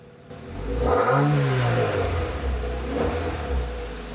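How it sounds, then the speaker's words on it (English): An MG MGF sports car with a loud second-hand boy-racer aftermarket exhaust revs up close, the engine note rising and swelling for a few seconds before settling back to a rough, throaty idle. "It looks like the second-hand exhaust I've got is actually a Boy Racer exhaust."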